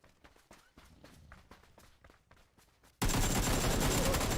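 During a competitive video game match, a battle gives off quick, light gunfire pops and footstep-like clicks, then a sudden loud, sustained roar of noise takes over.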